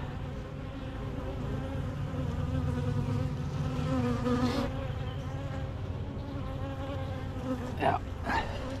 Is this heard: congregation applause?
no